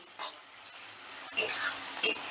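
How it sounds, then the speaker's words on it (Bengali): Onions fry in oil with a little sugar for a fish curry, giving a soft sizzle with a couple of sharp bursts of crackle as the pan is stirred, close by and moderately loud. "পেঁয়াজটা ভাজতে ভাজতেই চিনিটা ক্যারামেল হয়ে যাবে"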